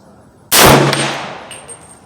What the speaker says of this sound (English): Okay, I'm gonna be shooting with Barnes Vortex ammunition.